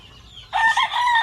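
After a brief quiet moment, a White Kelso chicken lets out a loud, close crowing call that holds for about half a second.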